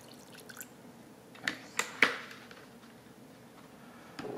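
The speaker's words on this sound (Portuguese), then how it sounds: "E eu vou despejar em cima da placa um pouco dessa solução." Ferric chloride solution poured onto a circuit board makes a few quick drips and splashes, close and fairly faint, over a quiet background.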